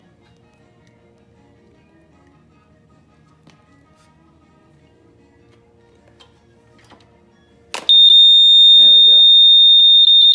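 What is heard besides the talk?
electronic alarm beeping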